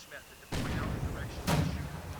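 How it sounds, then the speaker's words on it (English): Mortar fire in the real-time strategy game Company of Heroes 2, two sharp booming impacts about a second apart under someone commentator's steady narration. "Trading mortar rounds, but smoking the fighting position."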